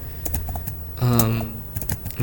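Clicks of typing on a computer keyboard, a quick run of close keystrokes with short pauses, joined midway by a steady tonal hum.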